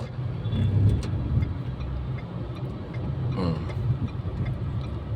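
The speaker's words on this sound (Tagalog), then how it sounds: "Dami sasakyan, no?" Cars and a large truck on a busy road, steady broadband traffic rumble with passing vehicles close by, no talk.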